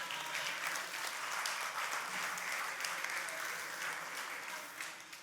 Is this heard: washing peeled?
no